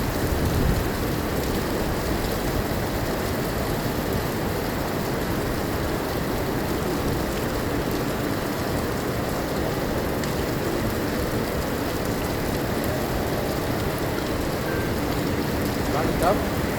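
Steady, dense rainfall hissing without a break, a heavy downpour that stays loud and even throughout.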